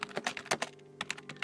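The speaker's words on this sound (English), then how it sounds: "I could hear the clicking of the keyboard on the other end of the phone." Rapid keyboard typing heard over a phone line, a quick run of sharp, uneven clicks with a brief pause in the middle, fairly close and alone.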